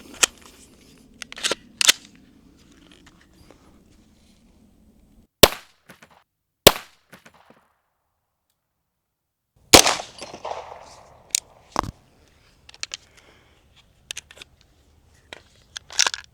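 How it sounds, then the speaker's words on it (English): 9mm pistol shots are fired into corn for a penetration test outdoors, sharp isolated cracks spaced irregularly over several seconds, one louder blast followed by fainter clicks and a brief hiss. "9mm penetration test against corn."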